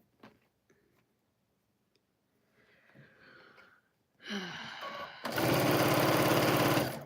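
Faint handling and shuffling noises give way to a close sewing machine stitching quilt pieces for a four-patch, first in a short run and then in a louder steady burst.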